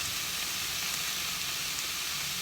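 Celeriac sizzles in oil and butter in a pan, a steady bright hiss and crackle that stays close and even throughout.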